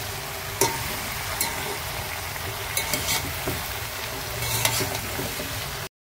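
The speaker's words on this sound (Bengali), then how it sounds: "ভালো করে নাড়াচাড়া দিয়ে ঢেকে দিতে হবে যাতে সবজিগুলো ভালো করে মজে যায়" Vegetable curry frying in oil is stirred in a pan, a constant sizzle broken by scraping strokes and clatters from the spoon that come at irregular moments across several seconds, close up and with no voices.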